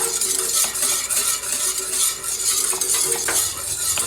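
Thickening Thai tea custard stirred in a pot over low heat, a loud, close, continuous scraping and swishing of a utensil against the pan bottom, unbroken for a few seconds.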